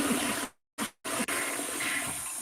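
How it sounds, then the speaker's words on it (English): A long toilet flush: a loud, steady broadband rush of water that cuts out abruptly twice near the start, then resumes and keeps gushing without a break to the end, with no talking. "That's such a long flush."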